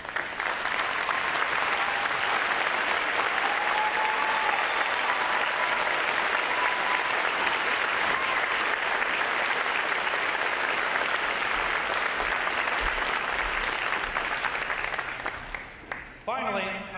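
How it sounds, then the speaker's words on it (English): Family and friends at a U.S. Navy recruit training graduation give veterans a long, sustained round of applause from a large crowd, even and full before tapering off near the end. "Would all of our veterans please stand so we can all give you a round of applause."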